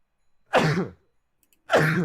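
Two sharp, explosive bursts from a person, each a loud broadband blast with a vocal tail, separated by about a second of silence.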